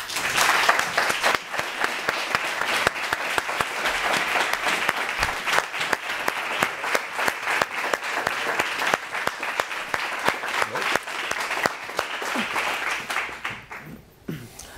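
Sustained studio audience applause on a Spanish-language courtroom TV show welcoming a sports commentator, dense steady clapping for about thirteen seconds before tapering off abruptly near the end.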